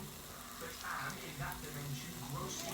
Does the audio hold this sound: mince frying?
yes